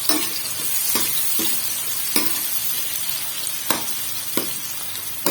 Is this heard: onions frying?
yes